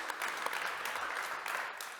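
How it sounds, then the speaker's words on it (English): Audience at a defence innovation event applauding a speaker, a brief, steady burst of fairly faint clapping heard alone. "Please, a round of applause for Jonah."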